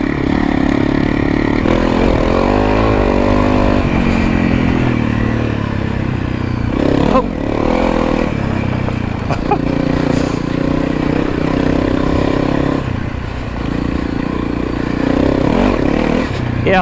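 A Honda CRF300L motorcycle with a 550 Performance ECU accelerates through its gears, its engine note rising and dropping between shifts beneath heavy wind rush and riding clatter, close and loud throughout.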